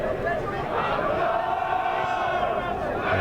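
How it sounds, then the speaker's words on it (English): Fans at a BUCS Super Rugby match between Loughborough and Nottingham Trent roar and chant, a loud, continuous crowd sound with sustained voiced cheering throughout. "And the crowd really finding their voices now."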